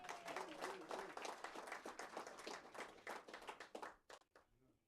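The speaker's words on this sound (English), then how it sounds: "maybe let's give him a big round of applause before we forget" Audience at a Namibian football history book launch claps for a guest, a close, quiet burst of rhythmic hand claps that swells, then thins out and stops near the end.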